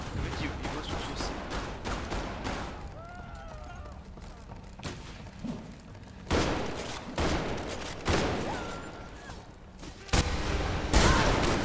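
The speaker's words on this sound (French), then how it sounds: "Ah, il m'a eu au fusil." Rifle fire in an online shooter game comes in scattered bursts of sharp cracks, loud clusters near the middle and end with quieter stretches between, heard under the game's ambient sound.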